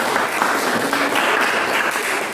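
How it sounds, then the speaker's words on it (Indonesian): A junior secondary classroom applauding a student group, many hands clapping loudly and densely in a continuous, even burst that fills the whole moment with no speech. "Tepuk tangan untuk kelompok 2."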